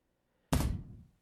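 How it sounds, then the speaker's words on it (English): A single heavy thud in the visual novel Soul of Sovereignty, a body flung hard against something: one loud, dull impact with a sharp attack that decays over about half a second, alone with no voices. "God, the thud sound effect."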